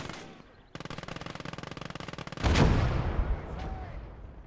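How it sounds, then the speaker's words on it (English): Gates of Hell World War II battlefield mortars: a rapid rattling volley of gunfire gives way to a single heavy, close blast that rumbles and fades into distant crackle. "Mortars firing off again."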